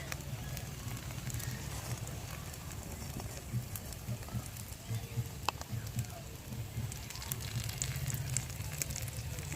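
An egg and tomato paratha fries in a wok, giving a steady, moderately loud sizzle of hot oil throughout with no talking.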